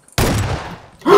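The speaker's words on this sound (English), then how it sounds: "Flashbang." A flashbang grenade bursts in a video game firefight: one sharp loud blast with a decaying ringing tail lasting about a second, then another loud burst starts at the end.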